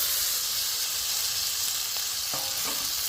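Boiled taro goes into a hot pan and sizzles loudly and steadily, with a few knocks from stirring near the end and no one talking.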